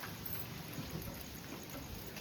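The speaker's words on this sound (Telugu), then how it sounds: "ఇక్కడైతే వర్షం అయితే వస్తుంది" Rain falls outdoors as a steady, soft, even patter that stays faint and distant throughout, with no voices.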